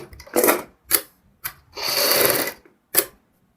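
A sewing machine stitching piping onto a kurti neckline runs in short, loud bursts, with a longer continuous run of stitching in the middle, close up, with quiet pauses between runs.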